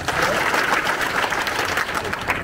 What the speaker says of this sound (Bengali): প্রধান অতিথি আছেন ওনাকে জোরে করতালি দিয়ে সবাইকে স্বাগত জানাবো